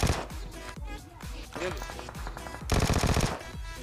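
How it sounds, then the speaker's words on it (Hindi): Gunfire rattles in a PUBG Mobile match during a hot drop, with loud, dense machine-gun bursts and single shots firing back to back, then a fast sustained automatic volley near the end, all heard close and continuous. "चारों तरफ से गन साउंड आ रहे थे"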